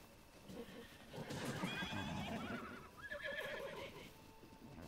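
A horse in Breath of the Wild whinnies, the neigh rising over soft hoof clip-clops and quiet game ambience, fairly faint overall.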